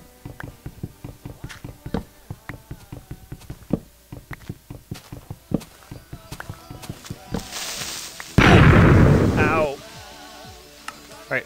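A creeper blows up in Minecraft, one loud burst of noise lasting about a second that breaks after a run of soft, steady footsteps and scattered clicks, followed by quieter crackling debris.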